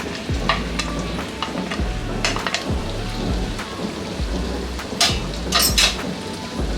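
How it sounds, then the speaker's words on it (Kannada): Chopped tomato and onion frying in a pan over low flame for an onion masala, with a dense steady sizzle, low rumbling, and a few sharper stirring clatters. "ಲೋ ಫ್ಲೇಮಲ್ಲಿ ಇಟ್ಕೊಂಡೆ ಫ್ರೈ ಮಾಡ್ಕೊಳ್ಳಿ."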